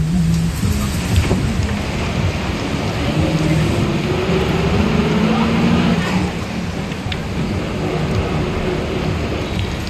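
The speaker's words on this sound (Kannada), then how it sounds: "ಇಂತಹ ಹಲವಾರು ಭಾಗದಲ್ಲಿ ಧಾರಾಕಾರ ಮಳೆ ಆಗ್ತಾ ಇದೆ" Heavy rain pours down in Bengaluru in a loud, constant roar, with a low rumble of thunder rolling beneath it.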